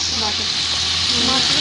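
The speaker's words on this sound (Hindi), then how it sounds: "बहुत ही खूबसूरत ब्राउन कलर में प्याज हमारे फ्राई हो चुके हैं।" Onions sizzle as they fry to a deep brown in a pan for chicken pulao, a steady close hiss of frying oil running without pause, with faint voice-like tones underneath.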